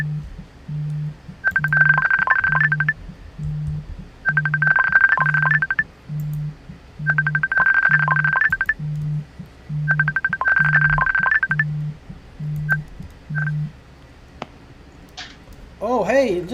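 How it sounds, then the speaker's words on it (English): An incoming phone call rings out as repeated electronic ring bursts, four long trilling rings over a steady pulsing tone pattern, loud and close, followed by a couple of short beeps. "we're getting a phone call here."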